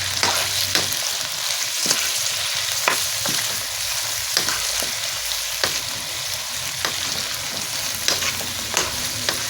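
Meat and onions fry in a pot with garam masala for white pulao yakhni: a steady, loud sizzle runs throughout, broken by regular scraping clicks as a spoon stirs the pot up close.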